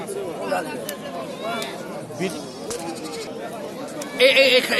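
Native goats bleat repeatedly at a busy rural livestock market, several close and distant cries rising over steady crowd chatter and nearby people talking.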